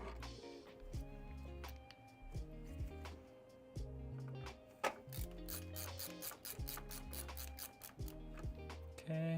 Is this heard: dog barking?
no